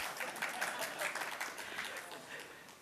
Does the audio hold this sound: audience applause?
yes